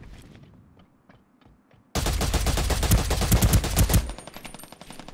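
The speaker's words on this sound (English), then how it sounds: "Is the guy still shooting at me?" Automatic gunfire rings out in the shooter game Ring of Elysium: a few faint distant shots, then a loud, rapid burst of close fire lasting about two seconds before it trails off into quieter echoing shots.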